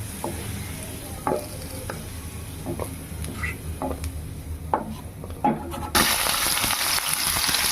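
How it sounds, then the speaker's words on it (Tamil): Garlic frying in a pan gives a continuous close sizzle, punctuated by intermittent scraping stirs, and the frying swells louder and brighter near the end, with no voices. "இந்த பச்சை வாசனை போகிறதுக்கு தான் இதெல்லாம் நம்ம வதக்குறோம்"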